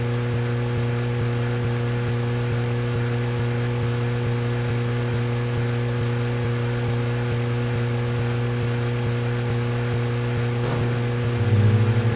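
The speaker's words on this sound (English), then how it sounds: "this car sounds like the My Summer Car boat motor" A steady, droning car engine in the game Deadly Premonition hums at a constant pitch for the whole stretch, like a boat motor, with a slight rise in intensity at the very end.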